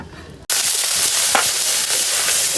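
Onion paste, cumin, garlic, green chili, dried chili powder and turmeric sautéing in oil for a fish curry, a loud sizzle that bursts in suddenly after a short quieter stretch and then continues with light stirring scrapes.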